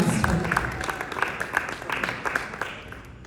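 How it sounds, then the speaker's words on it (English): A small audience claps in scattered, uneven bursts at moderate volume, with a faint murmur of voices underneath. "A round of applause."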